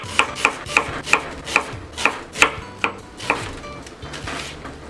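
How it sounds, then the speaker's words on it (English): A knife chops small slices for an omelette on a cutting board, about ten crisp, evenly spaced taps in a steady rhythm, close and clear with no talking. "You're just cutting very small little slices."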